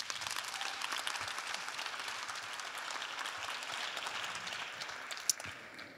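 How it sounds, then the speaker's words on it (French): Sustained applause from an audience welcoming a speaker onto the stage at a talk, a steady dense wash of clapping that holds throughout and tapers slightly at the end, with no voices over it. "Je vous invite à applaudir chaleureusement Audrey Giquel"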